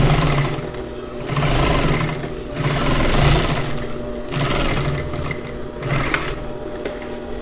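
A sewing machine stitches a seam on a flared skirt. It runs in several steady bursts of close, loud mechanical whirring separated by brief pauses, with no talking.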